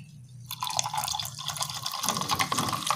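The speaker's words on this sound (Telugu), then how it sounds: "తర్వాత సోడా పోసుకొని మిక్స్ చేసుకోవాలి." After a quiet moment, fizzy soda pours and splashes into a glass of Rooh Afza sharbat with chia seeds, a bubbly hiss building and continuing to the end.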